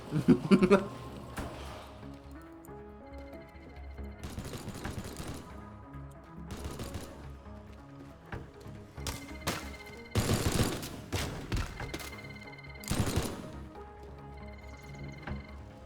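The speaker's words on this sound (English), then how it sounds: "Danger, live fire." Gunfire in the video game Teardown rattles out in irregular bursts of rapid shots, some near and loud, others fainter, separated by brief pauses.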